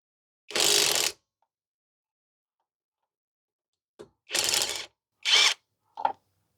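Tecepo 21V cordless impact wrench breaking loose a torqued bolt, a loud close burst of hammering rattle, a pause, then two more short bursts and a brief final blip, with no speech.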